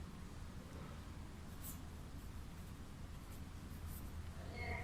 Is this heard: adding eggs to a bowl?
no